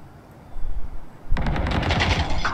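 Gunfire in the video game Valorant, heard as a sudden burst of rapid automatic shots that runs on steadily and loudly after a short quieter lead-in.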